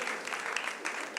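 A student audience claps for a comedy performance, a brief, fairly faint burst of many hands with a few louder slaps standing out.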